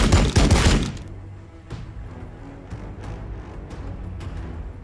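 Anti-swarm weapons let loose in Warhammer 40,000: Battlesector, opening with a dense, loud burst of rapid fire that dies down into scattered, sharper single shots and distant thuds over a low rumble.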